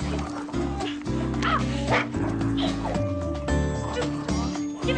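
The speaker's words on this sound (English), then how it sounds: "Stupid dog. Give me that!" A dog named as a Snickers-type pet barks, yips and whimpers in a movie scene, loud and continuous over music and other sounds.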